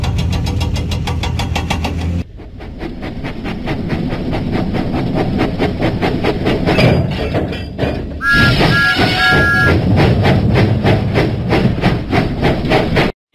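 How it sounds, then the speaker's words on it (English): Thomas the steam locomotive chuffs rhythmically in a Thomas & Friends lift, load and haul video game, a loud, steady puffing beat mixed with game music and tonal effects. "Huffing and puffing, Thomas set out for Farmer Trotter's farm."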